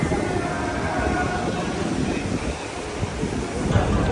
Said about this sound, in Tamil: செம்ம காத்து வருது.